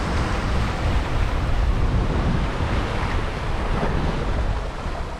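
Waves slosh and surge continuously around a sailboat running downwind at about 7 knots in gusty 16-knot wind on an Azores to UK passage, with steady broadband wind noise buffeting the microphone throughout and no talk.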